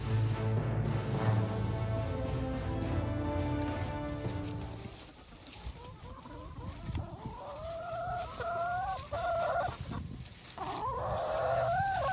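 Backyard chickens cluck and chatter in repeated short bursts while scratching through dirt and cleaned-up radish plants, close and fairly loud, with no talk.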